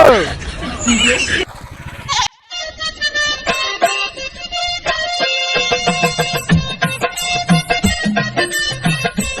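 Goats bleating repeatedly at a goat sale, loud and close, with several overlapping calls in quick succession after a short burst of other noise at the start.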